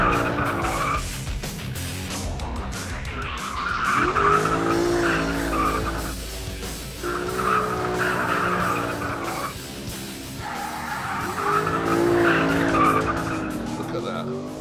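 Drifting car with electronic aids switched off, rear sliding out as tyres squeal and skid in long repeated waves over a revving engine, loud and close, with someone talking over parts of it.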